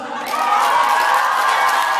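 Crowd cheering and clapping at an outdoor concert in Sejny, with whoops and shouts rising after a brief quieter moment into a loud, sustained roar that holds steady.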